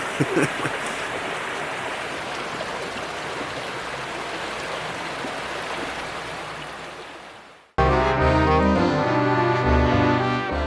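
A bubbling thermal hot spring beside an icy river in Serbia makes a steady, rushing wash of water noise for about eight seconds, then cuts abruptly to music.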